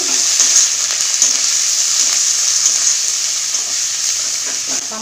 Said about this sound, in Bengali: বেটে রাখা আদা দিয়ে দিব। কাশ্মীরি লঙ্কা গুঁড়ো, হলুদ গুঁড়ো, ধনে গুঁড়ো, জিরা গুঁড়ো ভালো করে নাড়াচাড়া করবো একটু।